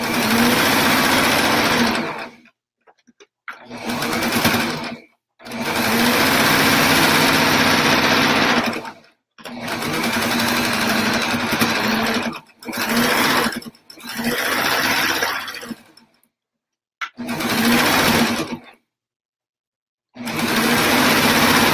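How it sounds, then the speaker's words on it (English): A sewing machine stitches rag quilt pieces together at a quarter-inch seam in repeated bursts of steady whirring, about eight runs separated by short silent pauses, loud and close with no talk. "I'm just sewing together using that same quarter inch."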